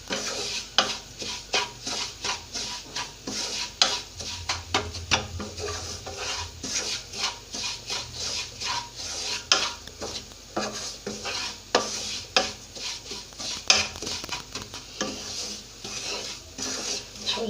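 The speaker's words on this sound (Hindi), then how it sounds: "अच्छी तरह से भून लेंगे हम सूजी को" Sooji (semolina) being roasted in a pan, a spoon scraping and stirring continuously with rapid metallic clinks and scrapes over a faint sizzle, steady and close, with no talk.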